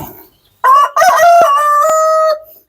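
A rooster crows loudly and close by among ornamental and laying hens, including Light Sussex birds, giving one full drawn-out call with a stuttering start and a long sustained note, with quiet clucking just before.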